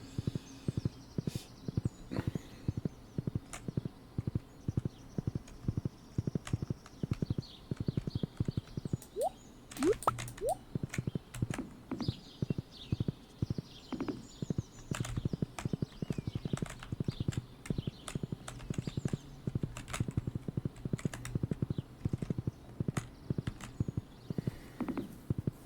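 Horse hooves clip-clop steadily in the farming game Stardew Valley, a continuous rhythmic trot of close, evenly spaced hoofbeats running throughout with no talking over it.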